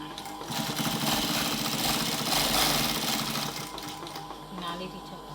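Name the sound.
sewing machine stitching a longyi waistband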